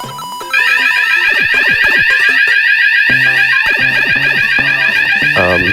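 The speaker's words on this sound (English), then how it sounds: "I can hear a fire alarm going off" A loud fire alarm starts about half a second in and keeps blaring, a shrill, steady electronic tone pulsing rapidly over busy game music, close and dominant to the end.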